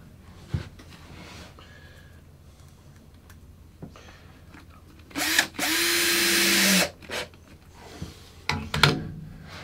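A power drill drives screws to fasten two handmade guitar templates together, a loud sustained whir of about a second and a half followed by short bursts, surrounded by quiet workshop handling noises.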